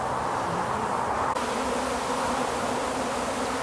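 Honeybees fly around a beehive being split into nucleus boxes, making a dense, continuous close buzzing drone with no voices.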